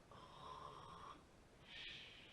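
Pigeon snoring softly over a phone line, two quiet drawn-out wheezy breaths, close and alone against a faint hiss.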